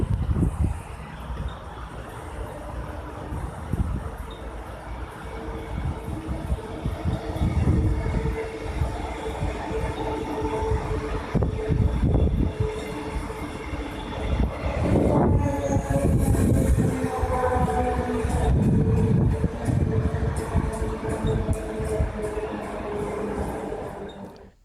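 Queensland Rail ICE passenger train set passing through Virginia station on a return run from Gympie to Roma Street, a loud, close rumble and rattle of wheels and cars lasting about twenty seconds, with a brief squeal midway.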